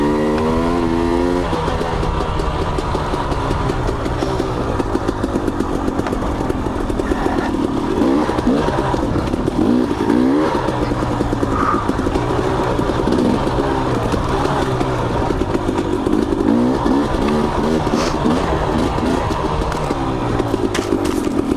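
Motorcycle engine labouring and revving continuously on a trail with tight switchbacks, loud and close throughout, pitch rising and falling with throttle changes and no talk.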